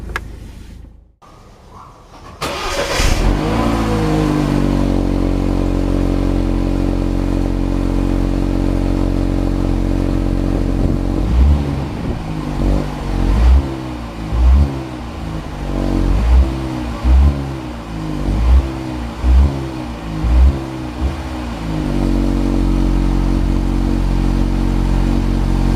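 A BMW 316i F-series with its 1.6 litre twin-turbo inline four-cylinder engine runs under an open bonnet, starting with a catch, then idling steadily before a series of rhythmic revs and a return to idle, loud and close.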